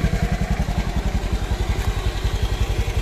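Honda Beat scooter engine idling close by, a steady, even low putter with a regular pulsing beat and faint mechanical clatter, running alone without talk.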